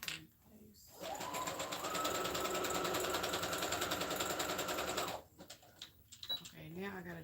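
A sewing machine running a straight stitch, a fast, steady mechanical whirring that holds for about four seconds, with brief talk just before and after it.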